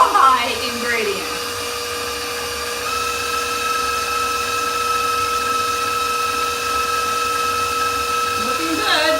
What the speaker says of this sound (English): Getting those eggs whipped up in there.